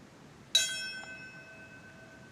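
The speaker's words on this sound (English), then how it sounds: "Bells toll at Ground Zero in New York, along with a moment of silence." A single bell toll rings out at the Ground Zero September 11 memorial in New York, striking once and leaving a clear, ringing tone that fades slowly over quiet surroundings.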